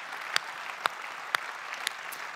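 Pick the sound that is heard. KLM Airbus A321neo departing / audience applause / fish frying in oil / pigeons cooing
audience applause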